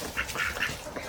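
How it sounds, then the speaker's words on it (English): Ducks on a Mississippi homestead quacking several times in quick, soft bursts, fairly distant and alone without talk. "Mom bringing the ducks back home."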